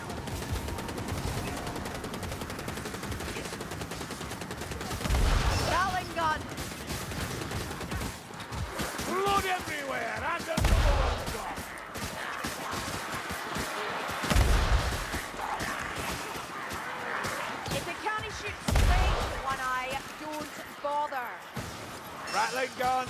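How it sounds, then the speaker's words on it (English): Rapid gunfire bursts from a gatling gun in the Warhammer Vermintide game, in repeated loud rattling volleys with heavy impacts, mixed with game music and talking voices throughout. "gatling gun."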